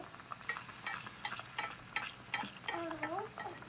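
Brinjal fritters frying in hot oil in a miniature kitchen, a steady soft sizzle with light crackles and occasional utensil scrapes, close but faint.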